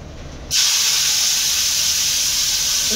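Chopped onions, two or three of them, tipped into a hot pan for puri bhaji, bursting into a loud, steady sizzle that starts abruptly and hisses on unbroken, close and without talk.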